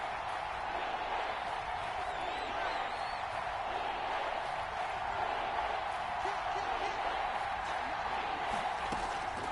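Steady, dense crowd roar from a PS4 football video game, a home-field stadium crowd droning continuously throughout at fairly high level, with no clear breaks or individual voices standing out.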